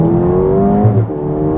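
Mercedes-Benz A35 AMG accelerating hard from inside the cabin, loud engine tone climbing steadily, then a quick gearshift with a brief dip and thump before the revs pick up again.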